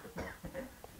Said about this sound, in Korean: 기침 멈추시지 못하시니까.